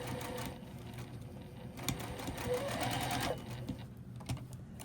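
A sewing machine stitches a scant quarter-inch seam on a scrap postage stamp quilt block, its rapid steady mechanical whir running continuously at close range with brief clicks and pauses.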